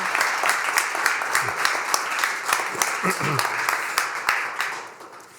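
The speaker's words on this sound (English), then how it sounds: "give another warm hand of applause to the Good Goal" An audience at a startup accelerator's presentation event applauds warmly, a steady crowd of clapping hands that carries on for several seconds, then fades out at the end, with faint voices underneath.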